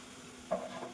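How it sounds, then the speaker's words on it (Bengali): Sliced onions stir and sizzle in hot oil while browning for a mutton curry with potatoes, with a brief scrape of stirring near the middle over a steady, faint frying hiss. "এই যে পেঁয়াজটা ভাজা হয়ে এসছে বাদামি মতো"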